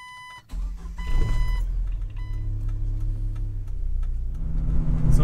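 A Jeep Wrangler TJ with a soft top drives along with a steady low engine and road rumble, and cabin beeps and ticks sound over it from inside.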